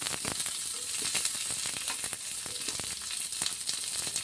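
Onions with garlic and ginger frying in oil, a dense crackling sizzle with frequent spatter pops and occasional stirring, close and fairly loud.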